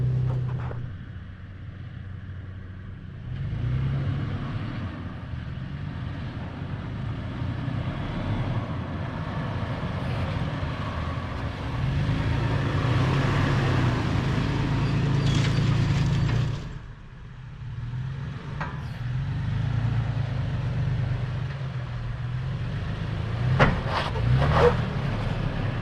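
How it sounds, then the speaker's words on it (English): Toyota FJ Cruiser crawling over red sandstone rocks on the Wayne's World trail at Sand Hollow, its engine a steady low drone that swells and dips with brief pauses, steady and moderately loud with no talking. "Here he's taking another crack at driving over some of Sand Hollow's red rocks."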